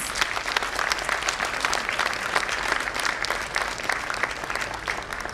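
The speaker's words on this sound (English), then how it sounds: "please give a huge round of applause to the teachers and our dear students" A school annual day audience applauds teachers and students, with dense, sustained clapping that holds steady and loud throughout.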